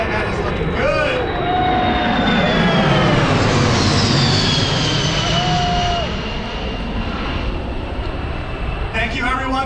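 C-17 military transport aircraft making a final low pass at an airshow in Orange County, New York, a loud sustained jet roar that swells and fades, with an announcer talking over it.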